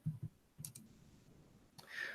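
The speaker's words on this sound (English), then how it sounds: "So I'm just typing help desk RMIT into Google." Faint, sparse clicks of typing on a computer keyboard, a few isolated keystrokes spread out with quiet gaps, ending in a short cluster of louder taps.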